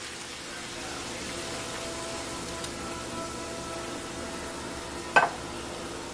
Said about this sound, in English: add a can of canned diced tomatoes with chillings in it